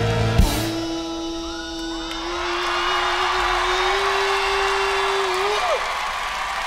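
Live concert crowd at an iHeart music event cheering and singing along in a sustained roar, a long held sung note riding on top after a brief sharp hit near the start.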